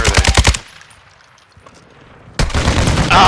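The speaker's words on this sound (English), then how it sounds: "Oh, I'm getting shot from behind." Rapid automatic gunfire in a video game, a loud burst of closely spaced shots at the start, then a quiet gap before a second dense burst of firing returns near the end.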